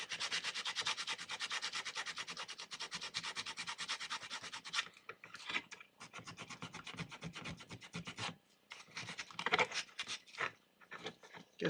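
Rapid, rhythmic back-and-forth rasping as a sanding stone levels hardened epoxy putty on an X-Shot blaster, first in a steady run, then in shorter broken strokes, close and fairly quiet.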